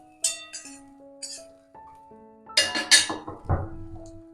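Roasted ingredients being moved into a mixer jar bring a run of bright metallic clinks and ringing taps of utensils, sparse at first and then a quicker cluster of knocks near the end.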